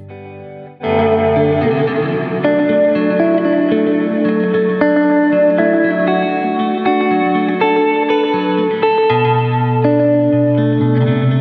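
An electric guitar plays sustained chords and notes drenched in shimmering reverb and chorus, with long washy tails, loud and continuous after a brief silent start.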